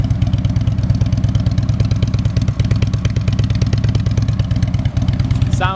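A 2012 Harley-Davidson Electra Glide Ultra Classic touring motorcycle idles steadily up close, its V-twin engine producing a loud, lumpy pulsing rumble throughout, with a brief blip of revving near the end.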